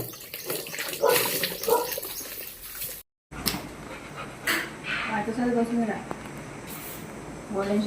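A bathtub filling from a tap, water running steadily with a dog panting and whimpering nearby while people talk over it.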